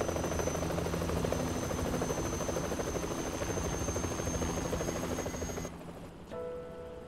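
Yakuza 3 Remastered helicopter: a loud, continuous rotor buzz with a steady whine that cuts out abruptly near the end and leaves a brief quieter tone.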